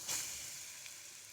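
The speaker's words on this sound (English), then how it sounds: "the pan is on with the oil in it, and once it is hot we are going to fry them" Arbi pieces coated in dry masala sizzle as they shallow fry in hot oil, a brief close hiss that flares loudly at first and settles into a steady softer crackle.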